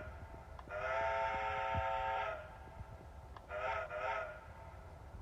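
A Lionel Lion Chief 2-8-0 ATSF O gauge model locomotive sounds its horn: a sustained chord blast of about a second and a half, then a shorter second blast after a pause, loud and close, with no talk.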